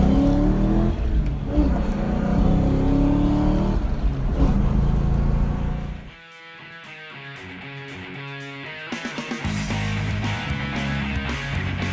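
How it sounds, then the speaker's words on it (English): A 1994 Ford Mustang GT convertible engine revs loudly and continuously, with a steady throaty roar that shifts into a rougher, pulsing rev pattern partway through before settling back to a strong, even drone. "Rev up your engines."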